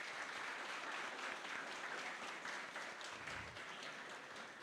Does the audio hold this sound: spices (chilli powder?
no